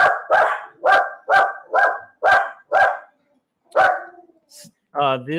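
Dogs bark repeatedly in a loud, regular series close by, followed by a pause, a couple more barks and a brief voice.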